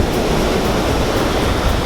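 Ocean surf washes in at Sandwich Harbour on the Namibian coast, a loud, continuous roar of breaking waves mixed with wind buffeting the microphone.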